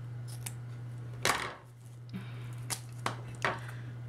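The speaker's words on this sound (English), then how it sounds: "I'm gonna hold tight to this again and cut." Scissors snipping through wrapped wreath material for a budget Dollar Tree wreath craft: several sharp, separate cuts spaced unevenly over a few seconds, close and fairly quiet over a steady low hum.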